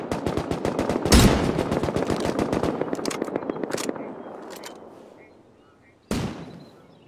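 Gunfire in the video game Free Fire: a fast automatic burst of shots rattles for about three seconds, then trails off into quiet before one final loud report.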